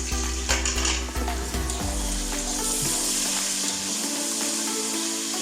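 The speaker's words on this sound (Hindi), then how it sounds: "एक मिनट के लिए इसको भी भून लेते हैं।" Garlic, green chilies and halved tomato sizzle steadily in hot oil in a pan, a continuous close frying hiss with occasional stirring clinks of a utensil against the metal.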